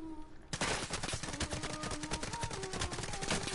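Rapid, loud machine-gun fire from the video game Far Cry 5 bursts in after a brief quiet moment and continues as a dense, sustained stream of shots.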